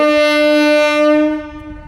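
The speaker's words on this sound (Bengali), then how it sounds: "এই লোকাল ট্রেনটি ঢোকার কথা আমতায় সাড়ে দশটা এখন প্রায় এগারোটা কুড়ি বাজে ট্রেনটি হাওড়া ইন করছে মাফ করবেন আমতা ইন করছে" A local train on the Amta line pulls into Amta station, sounding a loud, close, sustained horn blast that holds steady and then tapers off toward the end, with no talk.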